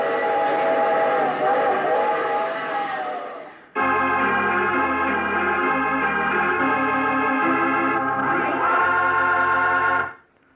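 A train whistle blows in long sustained tones over rumbling rail noise, with a brief pause, then continues loudly before cutting off.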